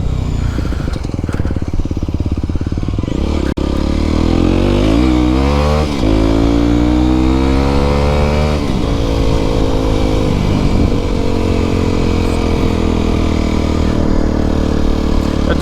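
Aprilia SX125, a 125cc motorcycle, ridden at speed: the single-cylinder engine drones loud and close, climbing in pitch as it revs through the gears with brief drops at shifts, under steady wind rumble.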